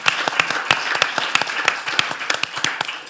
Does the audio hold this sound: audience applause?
yes